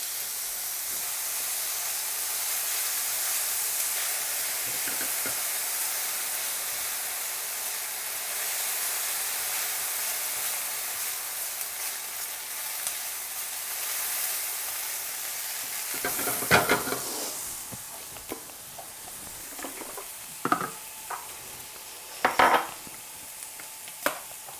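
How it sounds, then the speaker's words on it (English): Onion and garlic for pasta sweat gently in a pan with a soft, steady sizzle that runs for most of the stretch, broken later by several louder bursts of spoon scraping and stirring. "Just tip your onion and garlic in. We don't want this to cook in sense of getting brown, we just want to sweat it till it goes translucent."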